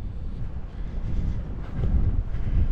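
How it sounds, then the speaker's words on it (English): Wind gusting over the flaky coastal cliffs on the walk between Birżebbuġa and Marsaxlokk in Malta, a low rumbling buffet on the microphone that swells louder toward the end, with no voices. "it's windy, blowing me over the cliff"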